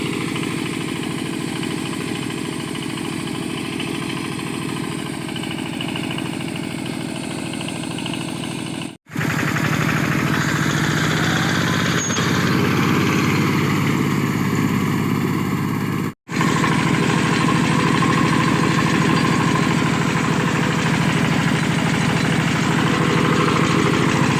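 A tractor engine runs loud and close while trampling straw stubble in a field, a steady heavy idle drone that continues unchanged apart from two brief cuts.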